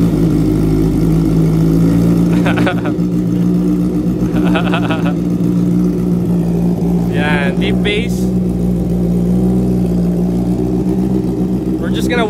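A Honda CB650R motorcycle with its exhaust fitted idles steadily after a cold start, giving a constant low, close engine drone with a few brief higher sounds and voices over it.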